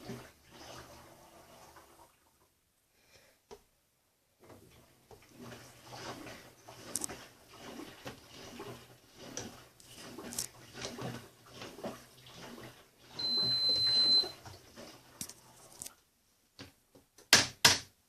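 A washing machine drum slowly tumbles a load with a little water inside, giving a series of soft rhythmic sloshes and thumps that are fairly faint, with a few clicks and a sharp knock near the end.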